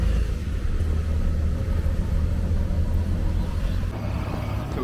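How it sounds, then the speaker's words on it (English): A small tuk-tuk engine rumbles steadily as it drives through the streets of Kochi, India, with a continuous low drone close by and no talking. "We've jumped in a little tuk-tuk"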